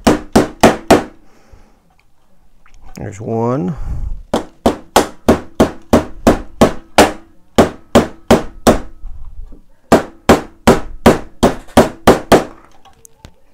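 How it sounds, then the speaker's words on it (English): A small hammer taps radio cans back into place on a 1931 RCA Superette R7 chassis during reassembly: close, sharp metallic strikes come in quick bursts of three to six, with a brief pause and a short voiced sound partway through. "Try to use this little hammer"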